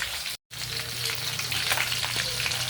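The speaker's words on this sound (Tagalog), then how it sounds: "nagpiprito tayo ng tilapia" Tilapia sizzles and crackles steadily in hot oil, close up, with a brief dropout near the start.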